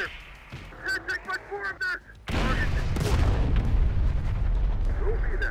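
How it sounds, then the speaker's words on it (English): Recoilless rifle fire in Terminator: Dark Fate Defiance: a heavy blast and booming explosion that rumbles on loudly after a stretch of brief speech. "Shot that guy with the recoilless."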